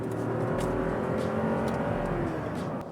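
A 2008 Toyota Sequoia's engine drones steadily and loudly under full throttle at highway speed, a continuous low roar with wind and road noise throughout, easing slightly at the end.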